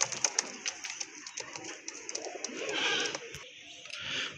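Native raj golla pigeons coo nearby in soft, rolling calls, with sharp clicks and wing taps scattered through and a faint background hum.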